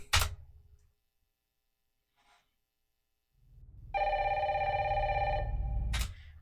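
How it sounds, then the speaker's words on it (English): An old-style telephone bell rings in the Resident Evil Requiem game trailer, with a sharp opening hit, near silence, a low rumble, then a steady bright ringing burst that ends abruptly. "we start off the trailer with the phone ringing"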